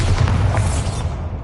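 A Bombarda blast spell going off in the video game Hogwarts Legacy: a single loud, deep boom that rolls on with a low rumbling tail for about a second and a half.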